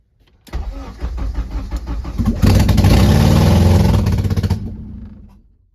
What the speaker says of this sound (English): Alright, so yeah, it does start up, as you guys can see.